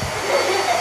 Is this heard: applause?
no